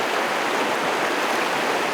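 A river rushes past nearby in a steady, loud, hissing wash of flowing water with no pauses or voices.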